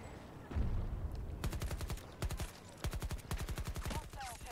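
Automatic rifle fire in the Battlefield 2042 shooter on PS5, rapid bursts of evenly spaced shots in several volleys, loud and close, with some background battle noise between bursts.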